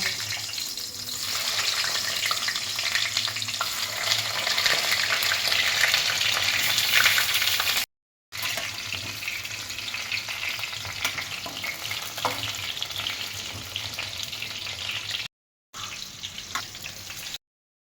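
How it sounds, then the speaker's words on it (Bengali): Papaya pieces fry in oil with a strong, steady sizzle close at hand and bursts of bubbling and stirring, broken by two short silent gaps, with no voices. "এবার পেঁপেটা ভেজে নেব"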